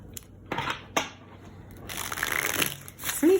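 Tarot cards are riffled and shuffled in a few quick, crisp bursts, the last one a longer flurry of papery flicks up close.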